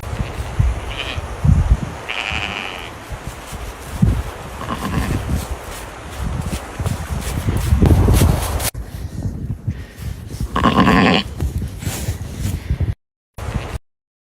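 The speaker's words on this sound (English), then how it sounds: "We got some snowy sheeps." Snowy sheep bleating in short calls, several overlapping cries against a busy, rustling outdoor background, with a brief cut and a few louder bleats near the end.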